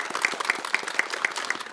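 An audience claps warmly after a Korean traditional music performance of Yeongnam-style jangdan rhythms, a steady dense patter of many hands with a few sharper individual claps standing out, close and continuous.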